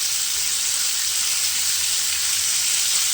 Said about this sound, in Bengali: জাস্ট একটু এইভাবে উল্টিয়ে পাল্টিয়ে দিয়ে শিমটাকে একটু ভেজে নিতে হবে